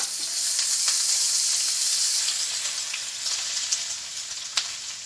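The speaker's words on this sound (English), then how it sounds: "we're going to stir fry this until it gets tender" Chopped onion stir-frying in a hot pan, a steady bright sizzle with occasional louder pops and crackles as it is stirred, close and continuous throughout.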